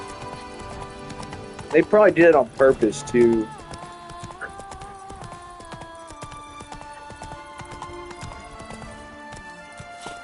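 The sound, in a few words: horse hooves clip-clopping, from video game Witcher 3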